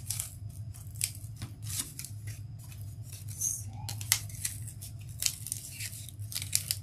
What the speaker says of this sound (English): You can also take this piece of cardboard and cut it up a little bit.